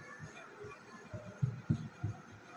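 Sewing machine stitching a seam over a frill sleeve: a quick run of soft, low thumping stitch beats in an irregular rhythm, close and fairly quiet, with no clear talking.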